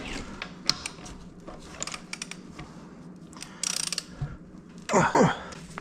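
A wrench torques down the lug nuts on aftermarket car wheels, making a quick ratcheting clicks burst at close range amid scattered knocks and clanks, followed by a louder scraping rattle.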